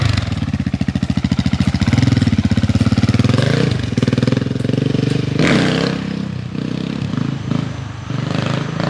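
Loud, close GasGas ES700 four-stroke super enduro motorcycle engine revving hard through a wheelie, a rapid thumping pulse that swells, briefly dips, then pulls on with throttle changes, with some clattering at the end.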